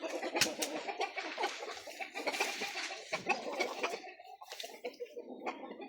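Black Shagzoda roosters and hens feeding on a mixed barley and wheat ration cluck busily up close, with a dense run of overlapping calls and scratchy pecking noises.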